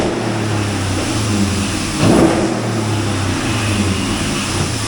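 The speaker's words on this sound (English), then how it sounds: "Give her a couple of revs here." A 425 hp 6.1-litre SRT8 Hemi V8 engine idles with a low rumble, then rises briefly in one quick rev near the middle before settling back to idle.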